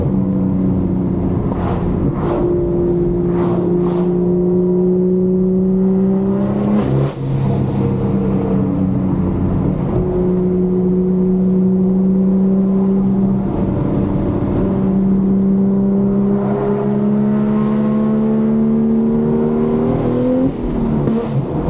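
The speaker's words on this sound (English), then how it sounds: "the N55, when you have a custom exhaust, doesn't make the most exotic engine noises out" A BMW N55 engine revs repeatedly through a loud custom exhaust, rising and dropping in pitch with gear changes, heard close from inside the cabin.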